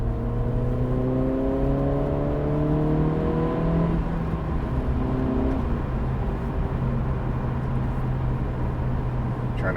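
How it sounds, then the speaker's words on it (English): A Honda Integra DE4 with a PRL Cobra intake drives along, its engine droning loud and close inside the cabin, with rising harmonic tones as it accelerates through the gears and a shift near four seconds. "now we're just going to do some driving"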